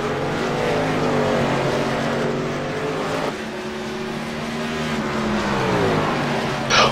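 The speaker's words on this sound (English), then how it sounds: "The leader's coming up on the lap truck of Doug Easterly here in eighth position." Racing trucks lap a track, their engines giving a loud, continuous drone that rises and falls in pitch as they pass through the field.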